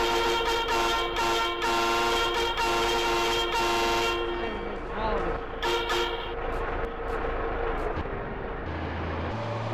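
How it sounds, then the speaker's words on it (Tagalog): A truck horn in GTA San Andreas blares continuously and loudly with a rich, steady tone, holding for several seconds before cutting off, leaving lower engine-like hum and brief fragments. "Ipinutin lang po natin ng matagal yung busina ng truck"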